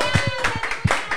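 Hands clap in a quick, steady rhythm of about eight close, loud claps during a podcast, with faint voices in the background.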